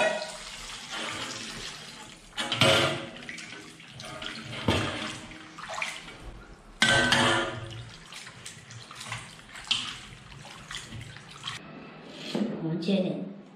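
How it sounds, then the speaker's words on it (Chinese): Pig trotters being washed under running cold water, with bursts of splashing and rushing tap flow rising and falling in uneven surges, while a person talks over the sound. "我们把这个猪脚过上冷水洗一下。"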